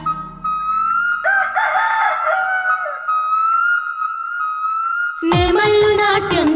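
A cartoon rooster crows in a Telugu children's nursery rhyme, long tonal calls rising over bright, steady backing music that swells loudly near the end.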